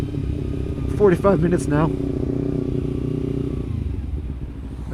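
A Kawasaki Ninja 300 rides through city streets, its engine giving a steady close drone under someone talking throughout.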